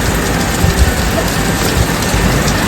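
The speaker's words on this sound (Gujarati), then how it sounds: "એક બાજુ જોરદાર વરસાદ ચાલુ છે." Heavy rain pours steadily and loudly, a dense continuous hiss with a low rumble underneath and no voices.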